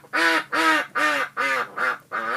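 A goose honks six times in a steady rhythm, each call loud, close and nasal, with short pauses between them.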